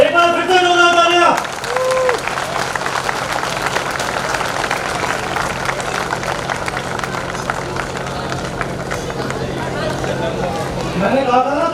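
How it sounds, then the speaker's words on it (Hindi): A crowd at a Dr. Ambedkar Jayanti event claps loudly and continuously for about ten seconds, a thick even roar of hands, framed by short amplified speech at the opening and close. "आप सभी के लिए जोरदार तालियां।"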